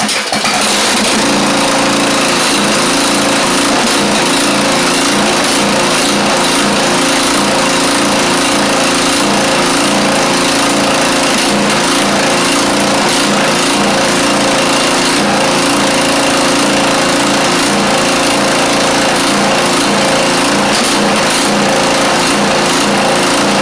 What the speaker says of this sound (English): we got the idea that this thing does run, even though that carb is not really good at all